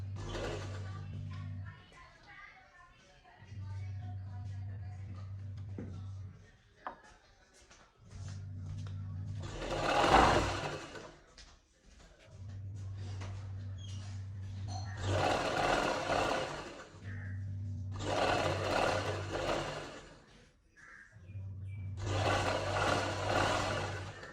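Domestic sewing machine stitching lining into a kameez, running in several bursts of a few seconds each with pauses between, fairly close, no talking over it.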